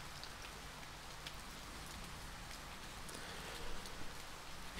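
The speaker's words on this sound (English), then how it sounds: "the gentle fall of rain" Steady video game rain pours down, a soft, even hiss with occasional louder drops, continuing without pause, with no music.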